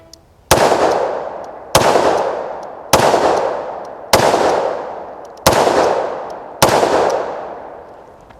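Six loud .357 Magnum revolver gunshots are fired at a target hand, spaced about a second apart, each a sharp crack with a long echoing decay outdoors.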